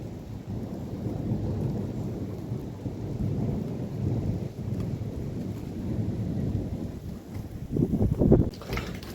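A thunderstorm in the Uttarakhand hills: heavy rain hisses steadily while low thunder rumbles and rolls throughout, swelling into a louder crack near the end.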